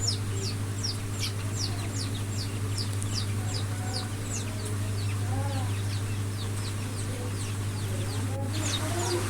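Chickens, roosters and month-old chicks on a farm clucking and cheeping, with repeated high peeps over a steady low mechanical hum, moderately close.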